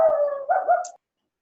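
A small dog gives a drawn-out howl that breaks into a couple of short, nasal barks, close by and alone.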